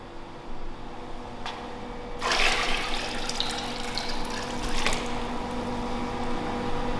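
Hot water pours into a foot bath tub with a rushing, splashing stream that swells after a quieter start and keeps running steadily.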